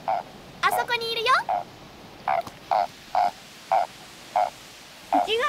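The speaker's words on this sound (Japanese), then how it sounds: "ヒキガエルだね。" A toad croaks outdoors in a series of short, evenly spaced calls, nine or so, clear and fairly close, with a voice speaking briefly between some of the croaks.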